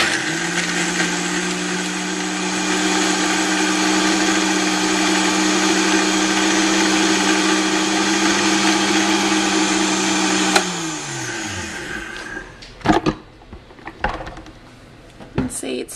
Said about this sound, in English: So I'll pop the lid on. And we're going to blend this at about 7.